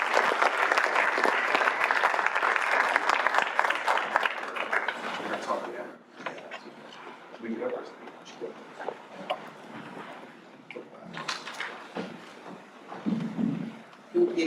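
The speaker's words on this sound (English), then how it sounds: "Shall we applaud them?" An audience at a talk and panel on Ubuntu and synodality claps loudly and steadily, the applause thinning after about six seconds into scattered claps under a speaking voice.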